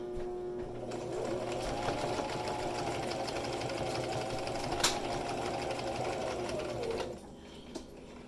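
A sewing machine back stitches at the end of a seam on a bag holder, whirring evenly for several seconds at moderate, close range before stopping abruptly.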